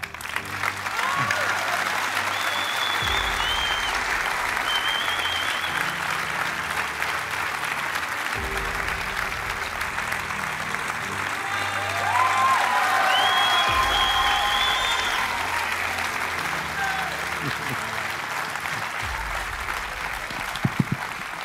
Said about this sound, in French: De vous demander d'applaudir le héros de cette soirée, Maxime Sorel.